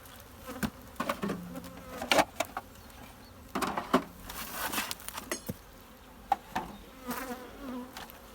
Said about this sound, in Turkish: Bir tek arılar bunlar.